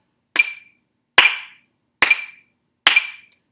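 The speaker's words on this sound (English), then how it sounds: "We're gonna clap." Choir tenors clap in rhythm, four crisp, evenly spaced claps ringing out alone in a quiet room.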